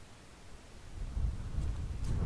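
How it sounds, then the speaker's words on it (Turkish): Wind in the video game The Last Door: a low, rumbling gust that swells after the first second and holds steady and fairly loud to the end, with no voices. "Rüzgar budur herhalde."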